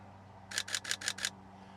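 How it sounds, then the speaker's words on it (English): Five quick, crisp mechanical clicks of a full frame camera's shutter firing in a rapid burst, evenly spaced and close up against a quiet room background. "when you release the shutter is just, it sounds so much better than the previous"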